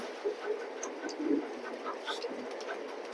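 A released pair of pure overlight-colour diesel pigeons gives soft cooing calls, faint and scattered over a steady background hiss with no talking.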